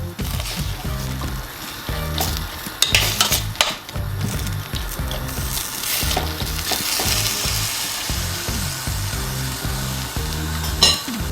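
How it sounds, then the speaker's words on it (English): Fish stew sauce with ketchup being stirred in a pot, steady frying sizzle with repeated scraping strokes of a utensil against the pot, close and continuous with no talking. "Just squeeze some ketchup in the pot generously as well. Give it a nice little stir."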